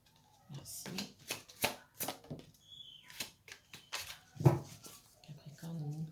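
Tarot cards are shuffled and drawn in quick, soft riffling bursts and light flicks up close. Someone speaks French between and over them.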